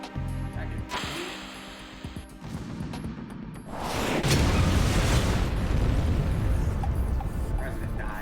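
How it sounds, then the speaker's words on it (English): A loud explosion bursts inside a small confined room in the video game Metal Gear Solid 2, rising into a sustained, heavy rumble after a few seconds of lighter clatter and noise. "President dies from an explosion in the small confined room."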